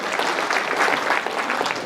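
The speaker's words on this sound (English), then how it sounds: "give him a round of applause" Audience applause fills a hall during an educational speaking tour event, a steady dense wash of many hands clapping at close range with no talk over it.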